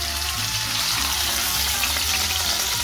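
Fish, flipped to its other side, fries loudly in a pan, with a dense, steady crackling sizzle up close and no voices over it.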